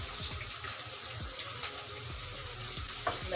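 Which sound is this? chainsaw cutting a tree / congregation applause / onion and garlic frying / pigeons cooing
onion and garlic frying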